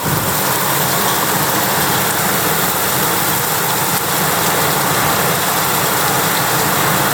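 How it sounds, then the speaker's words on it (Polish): Heavy downpour in Naruszewo, a loud, steady, dense hiss of rain falling continuously with no pauses, heard close and alone without talking. "Ale był bardzo potrzebny ten deszcz, tylko żeby grać już nie, nie, nie, nie padał."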